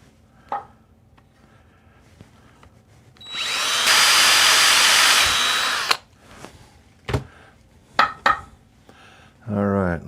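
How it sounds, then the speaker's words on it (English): A power drill bores into a steel wedge in one sustained loud burst of about two seconds, framed by scattered knocks and handling clatter, with a voice briefly at the end. "So now I have to drill it down just a little bit longer."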